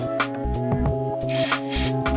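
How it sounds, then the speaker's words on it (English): A hissing aerosol spray bursts out in short blasts into the old Japanese potentiometers of a Greco electric bass, with a low mechanical hum underneath and a few clicks. "Let's spray it out one more time."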